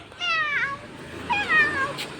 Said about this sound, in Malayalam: ഇന്ന് നമുക്ക് പൂച്ച സാറിനെ കാണിച്ചാലോ?